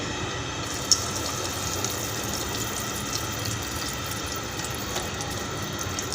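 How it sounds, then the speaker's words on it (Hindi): Homemade desi ghee pouring into a pan in a home kitchen for halwa, a soft steady liquid trickle with faint sizzle running continuously and close for the whole stretch, no voices. "तो ये जी हमने डाल दिया देसी घी।"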